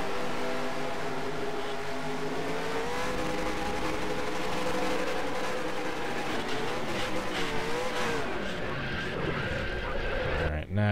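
A race car engine in NASCAR Racing 2003 drones at a steady high pitch, the tone shifting as the car runs in the wrong gear, with other cars' engines layered beneath before a sudden jolt at the end.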